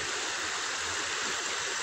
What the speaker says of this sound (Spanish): Miren, este río viene desde por allá